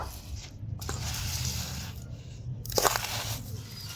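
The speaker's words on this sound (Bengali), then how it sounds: "এবার আমি সুজিটাকে ভালো করে মিশিয়ে নেব।" Semolina being stirred with sugar and salt in a bowl, a soft gritty scraping and crunching that rises and falls in short bursts, close and moderately quiet with no talking.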